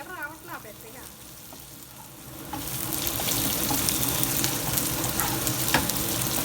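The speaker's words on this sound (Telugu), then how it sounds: "మధ్య మధ్యలో కలుపుకుంటూ దొండకాయలు బాగా ఫ్రై చేసుకోవాలి" Ivy gourds (dondakaya) fry slowly in a pan with occasional stirring; a few soft clinks give way to a loud, steady sizzle that sets in partway through and holds to the end.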